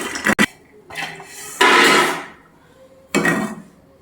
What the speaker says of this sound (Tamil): அடுத்து பாதாமை போட்டு வறுப்போம்.